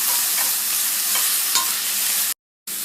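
Liver, kidney and heart fry in a hot pan while being stirred: a loud, continuous sizzle with a few scraping stir strokes and a brief cut to silence near the end.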